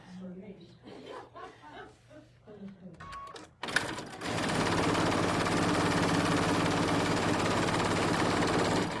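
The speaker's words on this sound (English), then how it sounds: "So now I'm gonna sew the two sides, and then we'll sew on the top and bottom pieces." A sewing machine runs steadily for about five seconds as it stitches quilt pieces together for a Christmas big-block quilt. A stretch of speech and laughter comes first, then the motor starts abruptly and holds a loud, even hum with no break.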